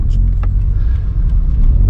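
A 2007 Toyota Yaris hatchback on the road gives a loud, steady low rumble of engine and tyre noise from inside the cabin, with a voice talking briefly over it.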